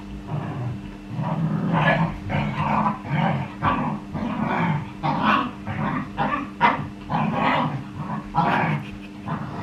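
A female dog barks and growls close by in a rapid, rough series of snarling vocalizations, loud and continuous with short pauses between bursts.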